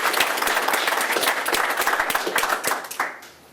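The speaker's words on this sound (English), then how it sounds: "Let's give her a round of applause." Audience applause at a university modern history prize-giving ceremony, a dense burst of many hands clapping in a hall that fades out over the last half second.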